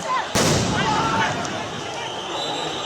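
A police sound grenade or tear gas shell fired at protesters in a street, one sharp loud bang followed by a ringing tail and crowd noise with voices in the background.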